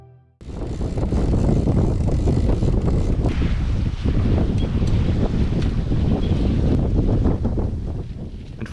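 Strong wind rushes and buffets against the microphone on a sailboat running downwind at 8 to 9 knots on the North Atlantic. A loud, steady roar starts suddenly and keeps up throughout with gusty swells.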